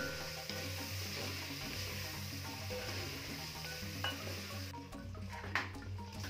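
Beef pieces added to a hot pot for Kenyan beef pilau, a loud steady sizzle with stirring and a few clinks of utensil against the pot, close up and without talk.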